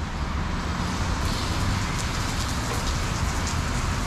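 Steady, dense rain pours down in a continuous close hiss with no pauses, while faint traffic rumbles underneath.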